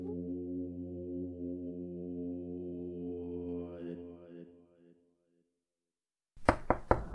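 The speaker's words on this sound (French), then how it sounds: "J'entends frapper." Several quick, firm knocks on a door, close and fairly loud, coming right after a long sung or droning voice fades to silence.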